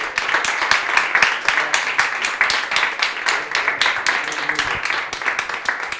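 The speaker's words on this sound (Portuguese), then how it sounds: "vamos receber o pastor Jonas, dando uma grande salva de palmas a Jesus Cristo." Church congregation applauding at a Bible school service, dense sustained clapping filling the room at steady loudness throughout, with no clear speech over it.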